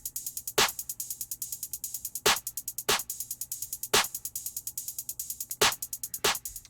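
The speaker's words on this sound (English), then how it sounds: "It sounds like this with the hi-hat and the snare." A looping drum pattern of rapid, crisp hi-hat ticks with sharp snare hits landing at intervals, dry and close.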